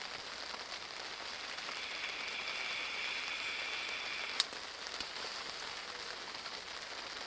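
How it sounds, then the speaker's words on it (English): Steady rain falls at a carp fishing lake at Todber Manor in June, a constant even hiss of drops with one sharp tap partway through. "it's been raining all day"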